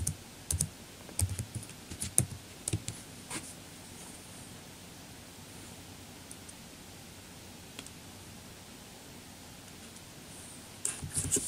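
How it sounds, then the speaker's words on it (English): Keys clatter on a computer keyboard during database data entry, irregular bursts of clicks clustered at the start and end with a quieter stretch between, steady room hiss underneath and no voices. "Keyboard."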